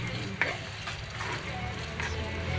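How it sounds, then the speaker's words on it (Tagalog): Bagoong alamang (shrimp paste) seasoned with pepper powder frying in a pan while being stirred: a continuous close sizzle with repeated scraping strokes, no talk. "Kailangan nyo po siyang halo-haloin para hindi po siya masunog."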